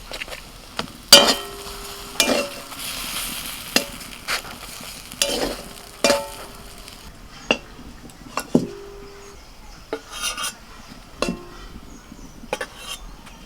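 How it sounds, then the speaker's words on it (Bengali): Pav bread fries in butter on a pan under a low, steady sizzle. Sharp clinks and scrapes of a utensil against the pan break in at irregular intervals. "একইভাবে আরও একটা ভেজে নিলাম"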